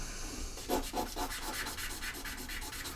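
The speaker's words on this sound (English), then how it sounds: "I've been sanding" Rhythmic hand sanding, steady back-and-forth rasping strokes close by, about eight passes in a row with no talking.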